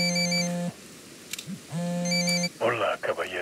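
A phone rings in Ghost Recon Wildlands, two long electronic ring bursts separated by a pause, with characters talking afterward.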